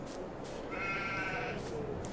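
A sheep in the Farming Simulator 22 video game gives a single wavering bleat at moderate distance, lasting about a second against quiet ambient farm background.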